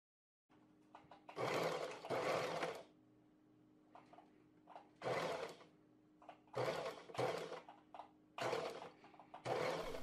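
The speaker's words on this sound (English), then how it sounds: "we sew a basting stitch along the curve just to hold the band and the side piece together" Sewing machine running a basting stitch along a curved pocket edge, joining a band to a side piece, in several short bursts of whirring stitching separated by quiet pauses, close and clear.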